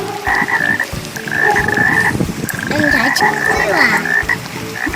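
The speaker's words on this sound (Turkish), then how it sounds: "Küçük kurbağa" Several frogs croak loudly and continuously, overlapping in rapid rasping calls, close by with no voices.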